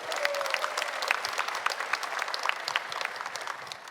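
An audience at a public radio broadcast on a special stage inside Severance Hospital gives a brief burst of applause, crowded clapping that starts strong and slowly tapers off.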